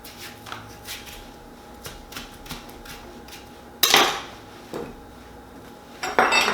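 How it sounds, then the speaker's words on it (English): A knife cuts up the last bit of a cantaloupe on a cutting board at home, giving a series of close, irregular taps and slices followed by a couple of louder scraping clatters. "I'm just gonna cut up the last little bit of the cantaloupe"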